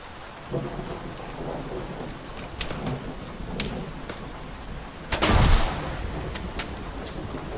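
Grenade explosion in the military shooter ArmA 3, a single heavy low blast rising out of steady background rumble and scattered distant pops, fairly close and loud, with no speech.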